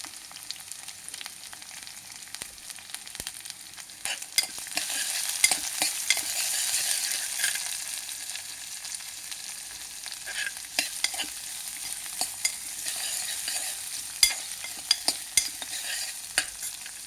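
Onions frying in oil in a pan for a taro curry, a continuous bright sizzle close up with intermittent scraping and stirring clicks from a spoon.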